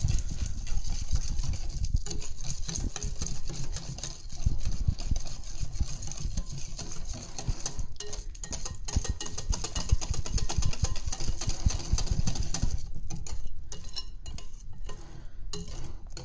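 A KitchenAid stand mixer whirs steadily while mixing a cheesecake mousse batter of fromage blanc with lemon juice and zest, a continuous close motor drone with faint scraping clinks against the bowl, running throughout with no speech.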